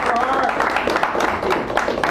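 A café crowd applauds at a poetry reading in Sacred Grounds Cafe, San Francisco, a thick, continuous patter of clapping with voices and cheers mixed in.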